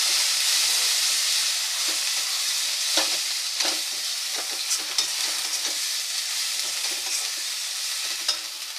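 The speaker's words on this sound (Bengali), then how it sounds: "সব উপকরণগুলো ভালো করে মিশিয়ে নেব" Spices, Kashmiri chili powder and chicken being mixed and fried in a pan for a moong dal chicken dish: a constant hissing sizzle broken by repeated spoon scrapes and stirring clicks, close up with no talking.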